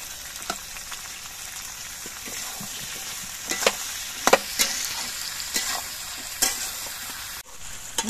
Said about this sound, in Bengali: ক্যাপসিকাম দিয়ে আবার কিছুক্ষণ ভেজে নিতে হবে।